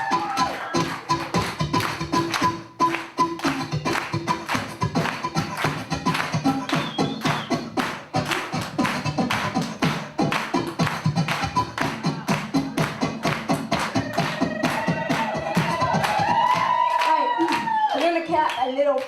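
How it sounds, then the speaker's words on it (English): Festival crowd clapping along in a steady rhythm for the whole stretch, loud and close, with voices and singing carrying over the beat and the pace picking up toward the end. "Y'all can clap along us."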